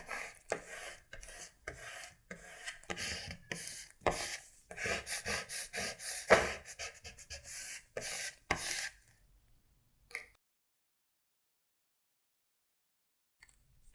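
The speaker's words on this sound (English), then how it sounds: "I'm just going to burnish it on so that it picks up my decal." Repeated rubbing strokes as transfer tape is burnished onto a vinyl decal and its liner, a close dry scraping rasp for about nine seconds that then stops, leaving near silence.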